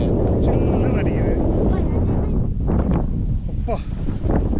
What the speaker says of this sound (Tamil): காற்று எப்படி அடிக்குது எப்படி அடிக்குது